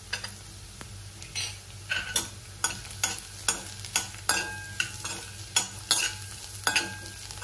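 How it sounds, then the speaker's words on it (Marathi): Onion, ginger and garlic sautéing in a pan sizzle steadily while a spoon scrapes and stirs in a regular rhythm, about one stroke every half second, with no voices. "कांदा थोडा भाजत आला की ह्यात आपण आलं लसूण परतून घ्यायचं आहे"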